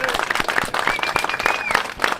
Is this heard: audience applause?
yes